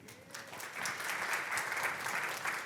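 An audience in a church breaks into applause, a dense and even wash of clapping that builds quickly and holds steady, moderately close, with no talk over it.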